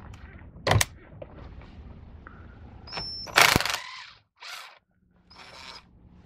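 Short bursts from an impact wrench working on a Jeep airbag repair, a few separate rattling whirs of varying length with brief pauses between them, close by and fairly loud.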